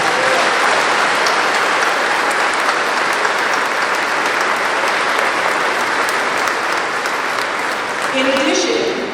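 A graduation crowd at Edison State Community College applauds faculty and staff, loud sustained clapping filling the whole stretch, with a faint voice emerging near the end.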